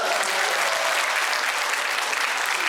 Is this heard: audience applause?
yes